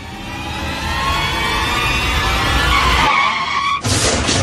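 A vehicle skids hard on the road, a loud, sustained tire squeal with engine roar that breaks off abruptly and then resumes in a harsh burst.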